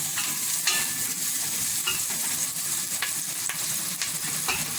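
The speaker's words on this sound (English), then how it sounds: "I'm trying to bring out the flavor from the onion. So we need it inside this oil." Onions sizzling in hot oil as they are stirred, a dense continuous crackle up close with repeated light spatula clicks and scrapes throughout, and nobody speaking.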